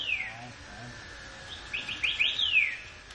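A little mechanical bird in a nativity scene chirps in quick, thin, high descending tweets, faint at first and then a brighter cluster near the end.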